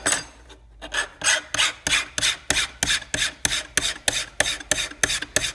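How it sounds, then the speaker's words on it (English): A metal file rasps burrs off the edge of a 1957–62 Corvette power-top deck lid arm, giving a close, steady series of about a dozen even strokes after a brief pause at the start. "clean the burrs up. Take my file."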